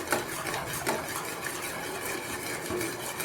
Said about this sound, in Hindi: खोया बनाने के लिए इसको आपने मुसलसल हिलाते रहना है, जब तक ये अच्छी तरह से खुश्क ना हो जाए।